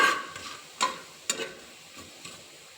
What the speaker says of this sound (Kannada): ನೋಡಿ, ಈಗ ಡ್ರೈ ಸ್ಪೈಸಸ್ನ ಸೇರಿಸ್ತಾ ಇದ್ದೀನಿ ಅದರೊಳಗೆ. ಈಗ ಎಣ್ಣೆಯಲ್ಲಿ ಸ್ವಲ್ಪ ಹುರ್ಕೊಳ್ತೀನಿ.